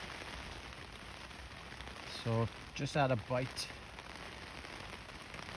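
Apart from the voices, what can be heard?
rain starting at an estuary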